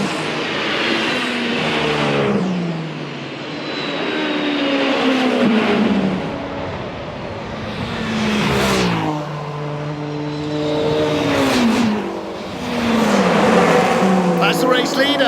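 Le Mans prototype race cars, a gold Toyota and a Porsche, battling side by side through the Porsche Curves, engines rising and falling in pitch as several cars sweep past, with a commentator talking over the racing.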